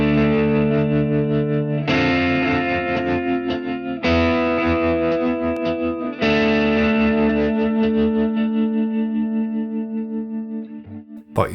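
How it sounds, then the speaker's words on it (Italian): Guitar chords through a Fractal Audio Axe FX III processor with delay repeats pulsed by a tremolo effect, three strummed chords ringing out as the echoes throb in a steady rhythmic wobble and fade. "In questo modo possiamo ottenere un effetto tremolo o panner sulle ripetizioni del nostro delay."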